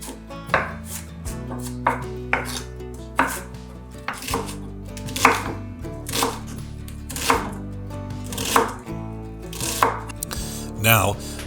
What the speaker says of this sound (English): Next, dice the celery and onions.